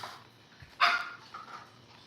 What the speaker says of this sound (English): Don't bark at my son.